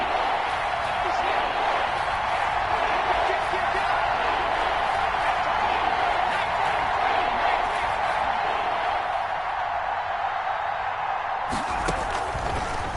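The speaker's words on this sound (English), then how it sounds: "The crowd getting into it as we come up on a big third down." Steady roar of a video game stadium crowd during an American football match as a big third down approaches, a dense, continuous wash of cheering under a commentator's voice, with a brief drop near the end.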